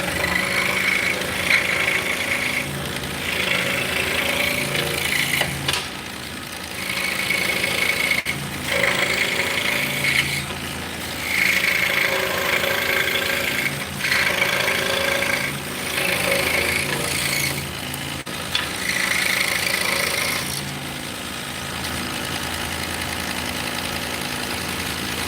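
A power saw cutting mortises in wood for drop spindles, a rasping, whining cut in repeated bursts of several seconds each, separated by short pauses of motor idle, close and loud.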